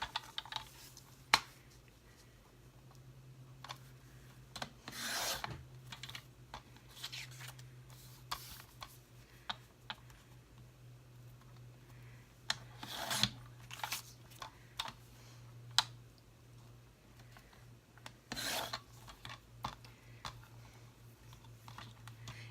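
Card paper being trimmed close to a picture for a handmade Easter card, heard as sparse, quiet, crisp snips and clicks spaced irregularly over a low steady hum, with no talking.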